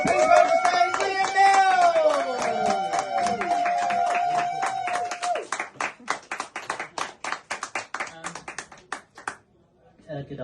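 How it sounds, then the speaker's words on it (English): Audience at a comedy festival clapping, first under a voice and a musical tone, then a loose spread of individual claps thinning out into scattered hits before fading. "please get your hands a clapping"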